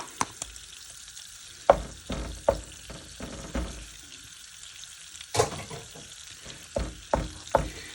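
Bacon frying in a pan, a soft continuous sizzle punctuated by a series of sharp, close scrapes and clacks of a utensil stirring it at irregular intervals.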